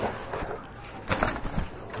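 A pair of pigeons coos softly at close range against a rough, noisy background, with a couple of low, rolling calls standing out.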